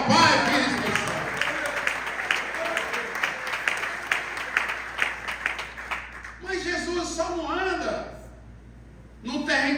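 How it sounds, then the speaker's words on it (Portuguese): A church congregation at a family worship service bursts into sustained applause that fades after several seconds, with a voice speaking over the clapping and continuing as it dies down. "Se você crê, já aplauda"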